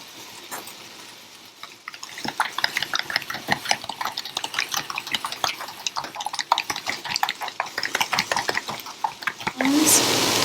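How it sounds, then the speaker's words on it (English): Rapid, rhythmic clicking of a whisk beating two eggs in a bowl, steady and close, ending with a brief louder noise. "I'm going to crack open my 2 eggs and whisk it"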